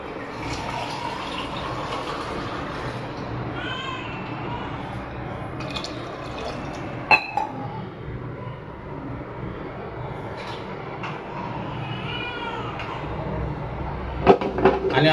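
Water poured into rice in a pressure cooker for Konkan-style rice, a steady soft trickling fill sound running throughout with a few faint clinks, no voices.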